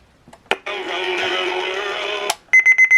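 A sustained buzzing alarm tone from a clock radio, then a quick run of sharp, evenly spaced beeps that sound close and loud.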